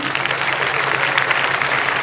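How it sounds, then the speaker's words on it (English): Audience at a school closing ceremony clapping steadily and loudly, a dense continuous wash of applause with no voices over it. "Keep on clapping, please"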